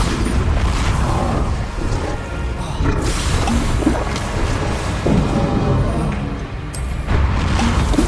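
Bombarda spell explosions in the Hogwarts Legacy video game boom through a dense, continuous roar of battle noise, loud and sustained across the whole stretch with several heavier bursts.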